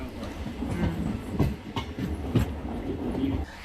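A DEMU passenger train on the Secunderabad to Siddipet line rumbles steadily at close range, with rhythmic clickety-clack wheel beats over the rails and occasional sharper knocks.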